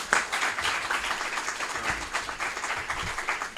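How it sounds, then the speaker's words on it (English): A room full of attendees at a morning breakfast club gathering gives a speaker a round of applause after his remarks: steady, dense clapping that holds for several seconds at moderate loudness without any voices. "If we could all give him another round of applause."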